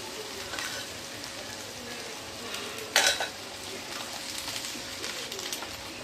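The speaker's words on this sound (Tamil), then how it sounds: "தக்காளி, இதையும் நல்லா வதக்கிட்டுக்கலாம்." Tomatoes sautéing in hot oil in a pan for a broccoli fry, with a steady close sizzle, light stirring scrapes and one louder burst partway through, and no talking.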